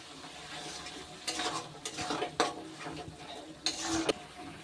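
Onion frying in a pan with chili, ginger, garlic and tomato paste, a steady sizzle under repeated scraping strokes of a stirring spoon against the pan, with louder bursts as the mixture is turned.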